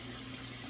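A shaving brush soaked and swirled in lukewarm sink water, giving a steady close, unbroken rush of running and churning water with no voices.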